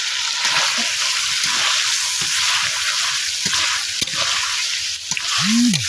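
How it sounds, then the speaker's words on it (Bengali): Pointed gourd and potatoes fry in spice paste, a steady bright sizzle with scattered scraping stirs and a brief clatter near the end. "এখন মশলার সাথে এগুলো আমি একটু বেশি সময় কষিয়ে নেব।"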